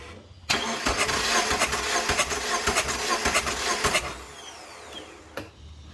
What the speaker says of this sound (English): Let's go crank the engine.